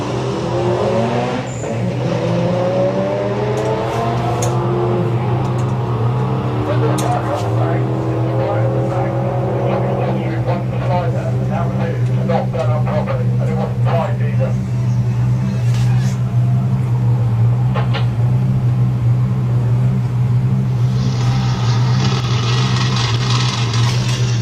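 Two rear-wheel-drive drag racing cars, a Mazda RX-7 and a rival, doing a burnout at a Japanese car show, a sustained engine roar with revving and tire squeal, while a commentator talks over it.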